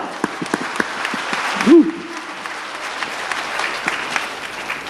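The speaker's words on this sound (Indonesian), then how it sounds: "tepuk tangan lu yang meriah Bapak Ibu" Audience applause at a sales seminar, a dense, fairly loud patter of clapping from a room of people, sustained throughout with a brief tonal whoop or squeal rising out of it near the middle.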